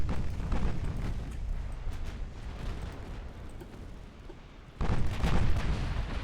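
Battleship main and secondary guns firing in the naval warfare game Ultimate Admiral Dreadnoughts, a dense rumbling barrage of booms rolling on continuously, with a fresh loud burst of fire near the end.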